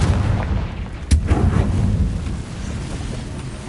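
Fiery spell blasts from Hogwarts Legacy: a sharp booming impact near the middle followed by rumbling crackle, set amid ongoing combat noise, fairly loud and close.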